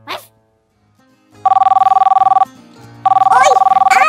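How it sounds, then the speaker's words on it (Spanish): A toy telephone rings loudly and close by in two long electronic trilling bursts, with a short break between them, and a voice calling out over the end of the second ring. "¡Coge el teléfono!"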